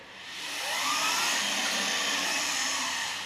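The motor of a Handy Gym exercise device running, a steady, loud whirring drone that swells in over the first second and then holds evenly, with no voices.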